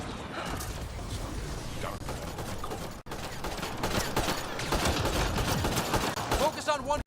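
Gunfire in Mass Effect: Andromeda, dense volleys of rapid shots and bursts layered over each other for several seconds, with a brief drop near the middle, heard close.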